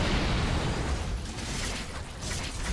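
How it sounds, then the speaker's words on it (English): Explosions rumble through the action game God Eater: Resurrection, a dense, sustained low roar of blasts and bursts with no voices over it. "Explosions."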